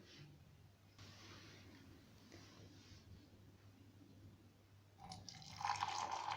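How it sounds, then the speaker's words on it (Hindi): Black coffee poured from a pan into a mug after the stove is switched off, a soft liquid stream rising into a brief filling trickle toward the end over a steady low hum. "अब हम इसका चूल्हा बंद करेंगे और इसको मग में डाल लेंगे।"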